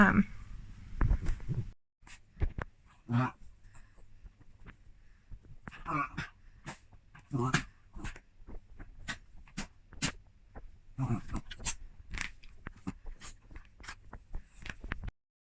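A dog whimpers and fusses in a series of short, high, scattered cries and whines, close by, with quiet gaps between them and some breathing.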